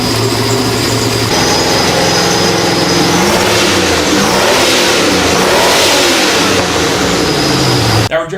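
A one-off Vector WX3 with a Chevy V8 bored out to 427 cubic inches (7 liters), twin-turbocharged and making about 1,000 horsepower, revs loudly and continuously, the engine note climbing and falling before cutting off abruptly.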